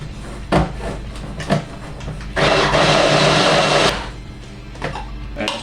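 Several short knocks and clatters, then a kitchen blender whirs loudly for about a second and a half before stopping, followed by more light bumps.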